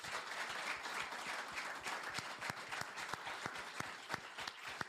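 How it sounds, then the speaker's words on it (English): Audience applauds the panel speakers at the close of a mental health discussion, a steady wash of many hands clapping with some sharp individual claps standing out, moderately distant and continuing throughout. "So I would like a massive round of applause,"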